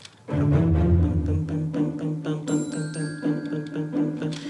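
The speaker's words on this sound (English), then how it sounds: "And then we listen the bells" Orchestral bells ring out clear, sustained tones over low string chords, each struck note lingering with a bright shimmer.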